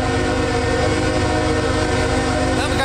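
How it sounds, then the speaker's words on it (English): A CSX coal train led by locomotive 3169 rolls past on the Monroe Subdivision at Edgemoor, South Carolina, a loud sustained rumble of engine drone and rolling cars filling the short stretch without voices. "Now we got a coal train, folks."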